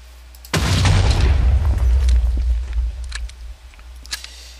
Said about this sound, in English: You are now using the M320.